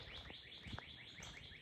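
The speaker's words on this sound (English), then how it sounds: "Listen to that bird singing." A bird sings outdoors beside a quiet path, repeating a quick series of bright, high chirping notes in a rapid rhythm. The calls are moderately close, and no one speaks.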